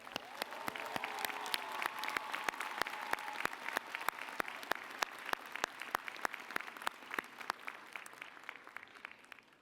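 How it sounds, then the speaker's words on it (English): Sustained applause from a seated crowd at a 2019 Westchester Community College commencement, dense clapping with sharp individual claps standing out, steady and fairly even throughout, with a faint voice early on. "Let's give a round of applause"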